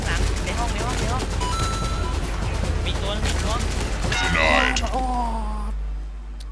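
Dense gunfire and rapid bursts in a Battlefield 4 team deathmatch on the Operation Locker map, with in-game mechanical clatter and shouting under steady talk.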